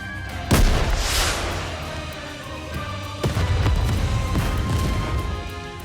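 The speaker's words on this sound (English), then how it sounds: "a shell flies from the rocket launcher. And a resounding explosion causes the entire snowfield to be blanketed in thick plumes of white smoke." A rocket launcher shell explodes on a snowfield in the anime-style shooter Nikke: two loud, deep booms a few seconds apart, each followed by a long rumbling roar with no voices.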